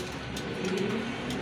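Rajgolla pigeons, a large-sized breed, cooing in a pigeon loft, a soft, low, rolling coo that repeats steadily for the whole clip over a faint background hum.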